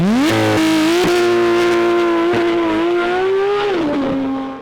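A Porsche 991 GT3 RS with 520 horsepower revs hard toward 8,000 rpm, its loud, close engine note climbing and holding a high wail before dropping off as the throttle closes, with no talking.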